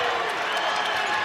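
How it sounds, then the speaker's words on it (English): Basketball arena crowd at the Mullins Center in UMass's home game against VCU, a steady dense roar of cheering and applause, loud and continuous with no gaps. "The Mullins Center crowd is starting to get into it."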